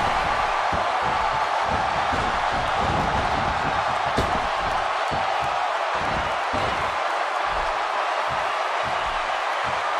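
A constant roar of a large wrestling crowd in the video game WWE 2K16, during a 40-man Royal Rumble, with thuds and slams of the in-ring action heard through the steady noise.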